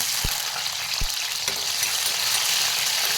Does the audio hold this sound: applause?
no